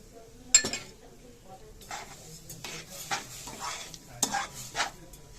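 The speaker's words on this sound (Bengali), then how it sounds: "আমি ভালো করে নেড়ে চেড়ে এটাকে একটু ফুটিয়ে দেব" Milk with grated jaggery and sugar stirred in a pot, a sharp clink of a utensil followed by repeated scraping strokes and soft sloshing, fairly quiet and close.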